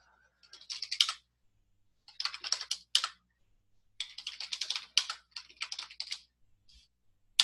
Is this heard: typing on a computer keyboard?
yes